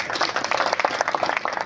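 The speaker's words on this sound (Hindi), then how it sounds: "एक बार ताली हो जाए" Spectators at a local sports competition event in India give a short burst of moderate clapping, many hands patting quickly at medium distance with a crowd murmur underneath.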